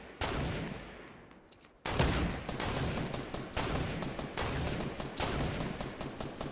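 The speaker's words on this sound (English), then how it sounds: "I hit a shot with my rifle." Rifle fire in Fortnite, with a loud opening shot followed by a rapid, continuous burst of close gunfire that rattles on without pause.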